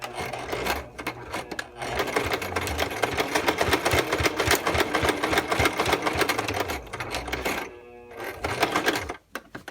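A sewing machine stitches a skirt waistband in the ditch of the seam, a loud rapid rhythmic chatter running almost continuously, with a short pause and restart near the end.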